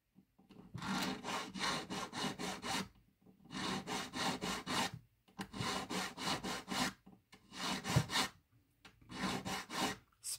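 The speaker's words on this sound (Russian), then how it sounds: "Так, берем надфилек" A needle file rasps back and forth across metal ends during a soldering repair, quick rhythmic strokes grouped in four bursts separated by short pauses, close and fairly quiet with no talking.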